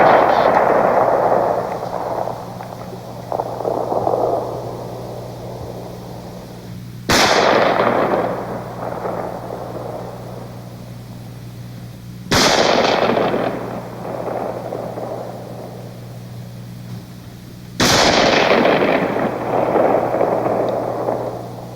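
A Winchester rifle in .30-06 fires three loud, evenly spaced shots at an outdoor shooting range, roughly five seconds apart, each a sharp crack followed by a booming echo that trails off, over a steady low hum.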